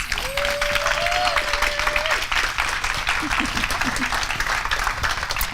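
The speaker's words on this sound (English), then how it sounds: "Let's give a round of applause to our amazing authors." An audience applauds the co-authors at a book spotlight event, with steady, dense clapping that runs the whole time, and a brief voice rises over it partway through.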